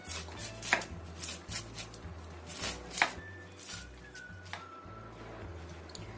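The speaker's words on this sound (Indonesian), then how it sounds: "Kemudian satu buah jagung manis. Ini kita sisir ya. Sisir halus aja." Sweet corn kernels being finely scraped off the cob in a series of rhythmic rasping strokes, roughly one or two per second, close and quiet over a low humming background, with no voices.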